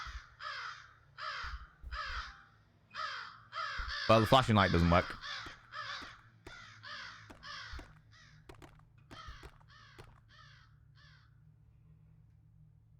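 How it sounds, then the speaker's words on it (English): Crows cawing in the video game Sense: A Cyberpunk Ghost Story, a steady series of harsh, evenly spaced caws across the whole stretch, with someone talking briefly over them midway. "Crows are friends. Crows are extremely intelligent, and I would happily be a friend with a crow."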